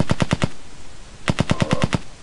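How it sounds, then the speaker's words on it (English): Video game gunfire in a Unity game shooting at the player: two rapid automatic bursts, four sharp shots followed after a short gap by about seven more, loud and close. "So when we shoot him, when we shoot him,"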